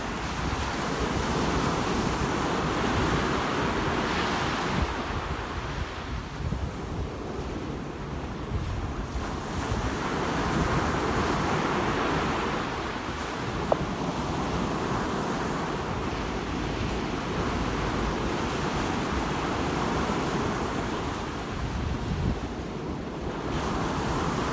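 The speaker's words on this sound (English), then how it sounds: "listen to the beautiful sounds of those waves crashing on the shore" Ocean waves crash steadily on a beach at sunrise, a continuous rolling surf roar that swells and recedes in broad surges, with wind buffeting the microphone throughout and no voices.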